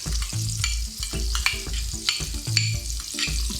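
Vegan butter sizzles in a skillet for a vegan sausage and okra dish, a close, steady frying crackle pulsing with rhythmic low thumps throughout.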